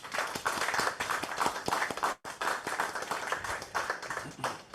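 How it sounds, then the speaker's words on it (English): Sustained applause from a conference audience, dense clapping throughout with a brief dip partway, then continuing strongly. "Can we get a round of applause for them?"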